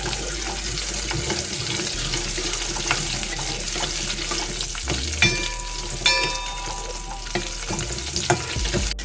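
Onion and garlic frying in a pan turning golden, stirred now and then: a constant dense sizzle with soft scraping and a few spoon taps against the pan, close and without voices.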